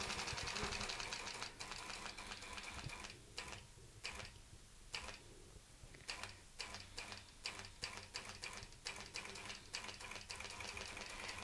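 Sewing machine stitching fabric while making a fan with CurlyQs: faint rapid mechanical ticking in bursts with short pauses between runs, no voice present.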